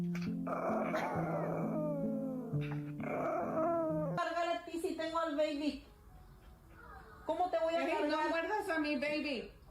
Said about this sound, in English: Chihuahuas just be making noises to make noises.